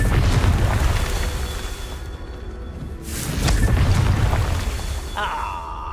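A Confringo fire spell bursts in Hogwarts Legacy: booming, rumbling blasts with a rushing whoosh, loud and close, rolling into a second surge before a bright magical chime, with a voice briefly heard.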